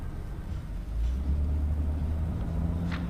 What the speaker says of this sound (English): I got into the car again and drove on slowly.